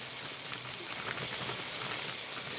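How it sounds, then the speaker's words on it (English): Corn searing in a hot pan makes a loud, steady hiss that runs on without a break and with no voices over it. "Sear the corn."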